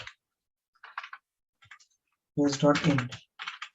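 Computer keyboard typing Node.js code, a few sparse clusters of keystrokes close by, with a person speaking briefly in between.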